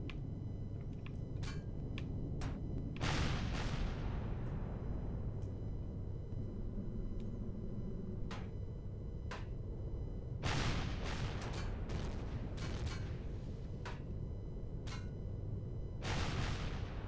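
Gunfire in a video game: scattered sharp gunshots crack at irregular intervals, some in short clustered volleys, over a constant low rumbling background at moderate distance.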